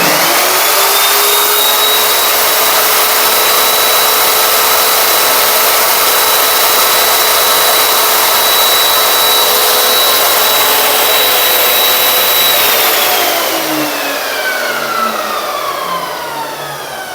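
A Vonder SCV 1810 circular saw runs with a loud, steady whine and broad roar close by, then spins down near the end as its pitch drops away. No voices.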